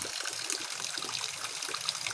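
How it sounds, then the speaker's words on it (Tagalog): Water runs steadily through a dug ditch in a bitter gourd garden during the rainy season, a continuous soft gurgling trickle, faint and close, with no voices. "medyo tuloy-tuloy yung tubig"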